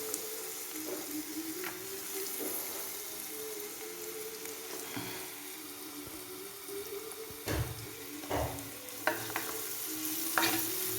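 Onions, garlic and ginger sizzle steadily in oil while a utensil scrapes and stirs in a new clay pot, with a few louder clunks of the spoon toward the end.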